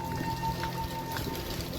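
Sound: heavy unseasonal rain

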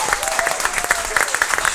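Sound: audience applause

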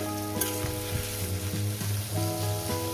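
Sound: small fish and potatoes frying

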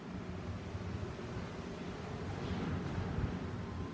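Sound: strong wind during a typhoon

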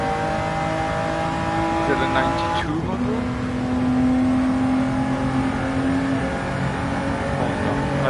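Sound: racing cars accelerating in Gran Turismo 7 video game

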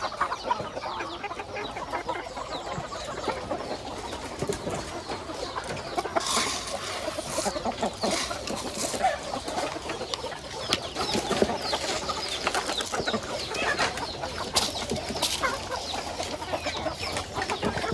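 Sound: young roosters clucking

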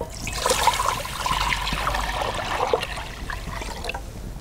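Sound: water poured into a Dutch oven on a rocket stove

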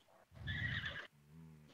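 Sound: horse neighing as it dies in a video game

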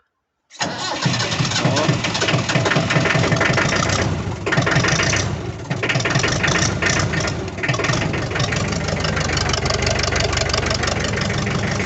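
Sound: Perkins tractor engine idling

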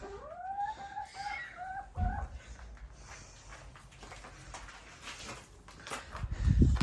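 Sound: chickens in a backyard coop

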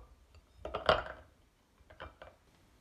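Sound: removing frozen black beans from a bowl onto a plate

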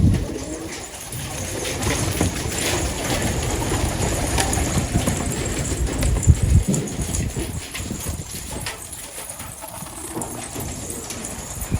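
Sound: pet pigeons cooing and flapping

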